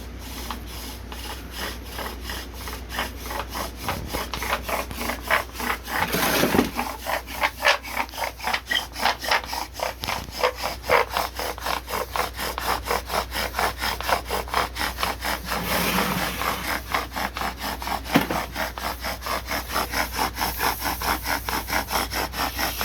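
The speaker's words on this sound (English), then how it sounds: "Andrew's gonna try box elder, ACER Negundo with a jonk of approximately 720 with a bow drill" A bow drill grinds against box elder wood in a long, steady run of rapid back-and-forth strokes, close and rhythmic, with no talking.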